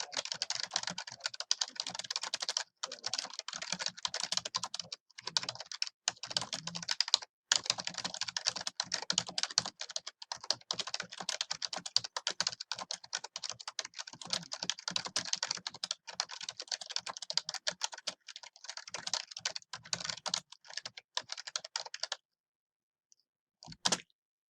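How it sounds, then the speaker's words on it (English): Rapid, continuous clicking of computer keyboard keys as a research paper is typed, close and fairly quiet, with brief pauses and a short silence at the end. "we will continue typing."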